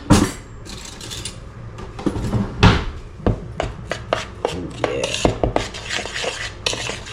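Breadcrumbs are mixed into a chicken of the woods mushroom mixture with a utensil in a bowl, producing close, irregular clinks, scrapes and taps of metal against the dish, some louder knocks among softer stirring, without talking.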